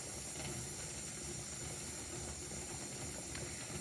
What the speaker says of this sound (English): there is a steady stream of steam coming from there